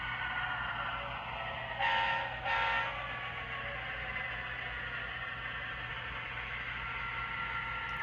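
An HO-scale Walthers Mainline GP9 model diesel locomotive in Central Vermont livery runs on a club layout, giving a steady low hum and rumble with two brief brighter bursts near the start, and no talk.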